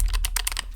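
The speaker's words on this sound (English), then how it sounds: "It's a clicky one with blue switches." Quick run of crisp clicks from typing on a clicky Keychron K12 keyboard with blue switches, about six sharp keystrokes close up over a low steady hum, with no voices.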